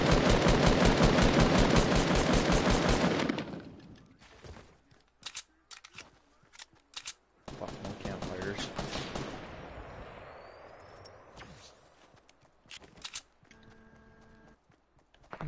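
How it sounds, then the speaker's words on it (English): Rapid automatic gunfire in a shooting video game: a loud, dense sustained burst up front, then scattered single shots and short bursts that fade toward the end, with no talking. "Blair's shooting at him."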